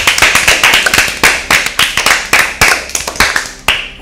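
A small group claps for a team at a Bible quiz show, sharp close handclaps in a loose, fairly regular rhythm that lasts the whole stretch and ends abruptly.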